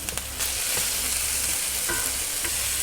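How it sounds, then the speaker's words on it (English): Venison for chili sears in a hot pan with a loud, continuous, close sizzle that lasts the whole time, with no voices over it. "Let me get my pan hot for a good sear"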